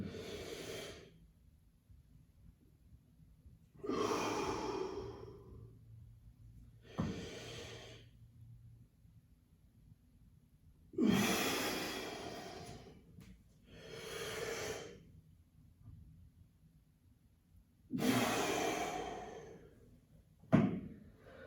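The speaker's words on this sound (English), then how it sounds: "Deep breath in." Deep breaths drawn in and let out during a cardio workout, slow and close, a handful of separate airy pulls and releases spaced several seconds apart, with no talk between them.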